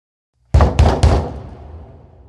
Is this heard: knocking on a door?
yes